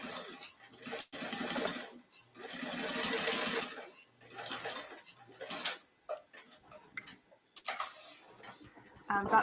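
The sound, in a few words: sewing machine stitching second line on bag exterior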